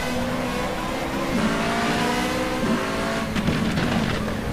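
Formula Renault 3.5 engine in the rFactor2 racing game, on a Malaysian circuit, droning loud and steady with rising gear-by-gear pitch sweeps and brief tire noise, no voice over it.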